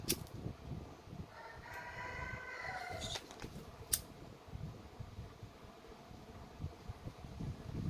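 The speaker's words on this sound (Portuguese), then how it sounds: "Aqui tá ventando um pouco" Wind gusts outdoors against a microphone, making a continuous low buffeting rumble that swells and dips, with brief rustling and handling noises midway.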